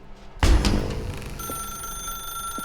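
A telephone in the video game The Stanley Parable starts with a sudden loud clatter, then settles into a sustained bright electronic ringing tone that carries on steadily.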